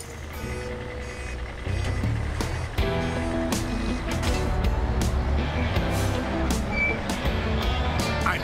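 Cartoon construction vehicle backing up, with a rapid series of electronic reversing beeps over a rumbling engine and busy musical score, loud and steady as the machine pulls away.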